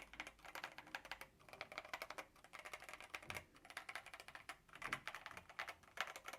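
Typing on an Epomaker RT100 mechanical keyboard gives quick, uneven bursts of crisp clacks, close and fairly quiet, with short pauses between runs of keystrokes.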